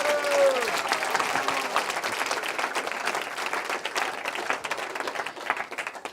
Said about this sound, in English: It's a big round of applause for Maharaj's very wonderful class.